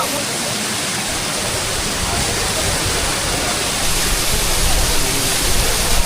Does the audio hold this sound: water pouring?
yes